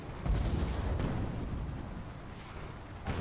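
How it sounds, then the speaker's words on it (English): Heavy Hades cannon fire from a distant Reborn ship pounding a Salvager in a space combat video game: dense, rumbling low booms rolling continuously, with a sharper burst near the start and another at the end. "the Reborn is using its Hades cannon from afar to attack the Salvager"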